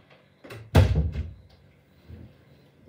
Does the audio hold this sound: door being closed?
yes